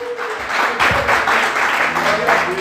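Church congregation applauding during a sermon, with a short burst of crowd clapping in waves over a couple of seconds, a voice speaking over it.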